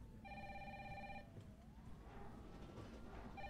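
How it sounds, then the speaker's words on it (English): A telephone rings in the Resident Evil 3 video game: a clear electronic ring tone pulses for about a second, pauses, then starts again at the end over a low game ambience. "we're gonna miss the phone call if you don't run"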